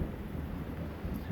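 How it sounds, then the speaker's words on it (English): A thunderstorm produces a low, continuous rumble of thunder that stays steady and moderately loud throughout, with no voices. "we have a thunderstorm going on. And it's got some lightning going on and some thundering"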